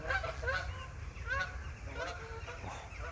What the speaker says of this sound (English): Hate the noise of those geese,